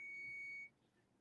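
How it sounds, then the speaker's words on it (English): A dog collar gives a steady electronic beep with a bright tone and overtones, holding for about half a second, then cutting off, leaving faint background hiss. "Manny, that beeping sound you hear is the dog's collar, and Manny's barking at it."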